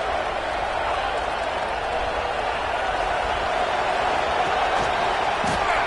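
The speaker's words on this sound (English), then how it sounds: "Listen to the crowd energy here in the early going." Stadium crowd at a football game, a dense, steady roar of many voices and cheering that holds level the whole time, broad and distant-sounding with no single voice standing out.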